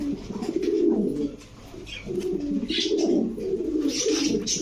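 Pigeons coo steadily in a cage among fancy breeds such as Pakistani Teddy, Budapest, Lahori, Beauty and Danish, with low, repeated throaty calls that carry on close by throughout.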